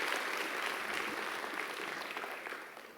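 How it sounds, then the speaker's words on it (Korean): A church congregation claps in welcome as an elder comes forward during a service, a soft, distant, continuous patter of many hands that eases slightly toward the end. "여러분 뜨거운 환영의 박수로 맞이해 주시기를 바랍니다"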